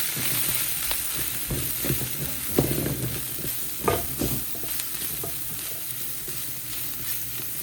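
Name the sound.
mixing spicy masala while it sizzles in the pan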